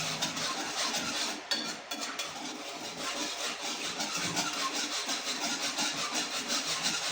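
Thick traditional kali porridge of flour is stirred steadily in a pan, giving a continuous close scraping and rubbing that runs unbroken throughout with no talk.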